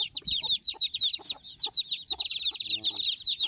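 Chicks peep in a steady high-pitched chorus while a mother hen gives low, soft clucks close by.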